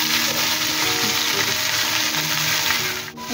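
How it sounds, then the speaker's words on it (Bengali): Potatoes and okra fry in a hot wok, giving a loud, continuous sizzle with a steady crackling hiss close by, with no talking. "এটার মধ্যে আগে ঢেঁড়সের আলুটা ভাজা করে নেব।"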